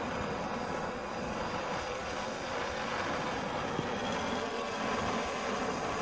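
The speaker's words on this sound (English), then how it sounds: "This is the steam engine running." A homemade Coke can steam engine runs with a continuous, even hiss and whirr, steady and fairly loud throughout with no talking.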